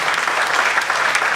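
Sustained audience applause at a live motivational event, dense and steady crowd clapping for about a second and a half with no pause and no speech on top.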